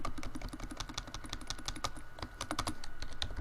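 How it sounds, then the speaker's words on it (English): Steady run of rapid keystrokes on a computer keyboard while entering a search term into a keyword research tool, close and clear with no talking. "So let me type in a different one."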